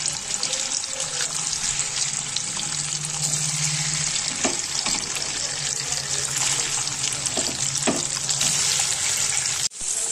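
Paneer pieces fry in a pan with a continuous close, bright sizzling hiss and a few soft clinks of handling, with a brief dip near the end.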